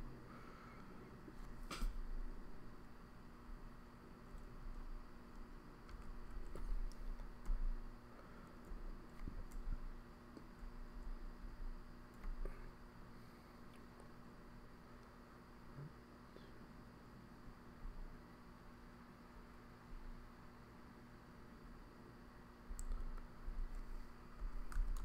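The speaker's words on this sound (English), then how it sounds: "I'm just typing this stuff" Soft, scattered clicks of typing on a computer keyboard, faint and irregular under a steady low background hum, with occasional sharper key taps.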